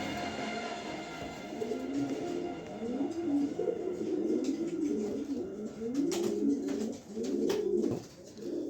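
A pair of pigeons offered for sale coo close by in a repeated, rolling rhythm, the low throaty calls running steadily from start to finish with no talk over them.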